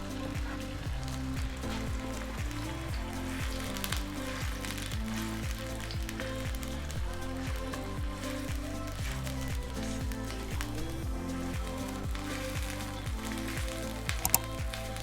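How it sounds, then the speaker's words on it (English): Curry paste fries in a pot for prawn and coconut noodle soup, a dense, even crackling sizzle that stays constant throughout, close up, under a low steady background hum, with no talking. "I'm going to add in the paste and fry this for about 5 to 7 minutes until it's fragrant"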